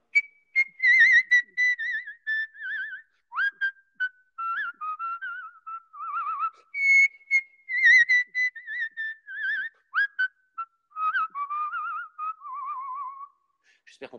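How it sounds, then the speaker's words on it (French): A solo whistler performs a melody from Bizet's Carmen in a slightly resonant room, clear sustained pitched phrases with vibrato and short pauses between notes. "C'est vrai qu'on commence souvent avec Carmen de Bizet."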